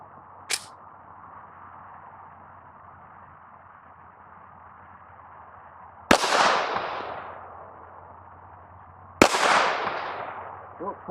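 Two sharp, loud gunshots from a 1911 pistol fired at a target, a few seconds apart, each with a short echoing decay, plus a fainter click or snap early on over steady outdoor background noise.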